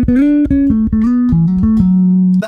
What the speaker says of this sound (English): That's the sound of the bass with both pickups on full.